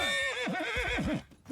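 A horse in the medieval combat video game Bannerlord gives a loud, close, wavering neigh lasting over a second, followed by a brief snort.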